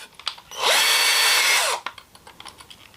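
A handheld power drill fitted with a large bit whirs loudly for just over a second and then stops. Brief spin-up and spin-down, with faint clicks and handling noises before and after.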